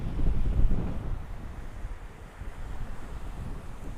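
Wind gusts across the microphone on the beach at Vero Beach, Florida, a rough low buffeting roar with a heavier burst early on that settles into a steady rush, with no voices.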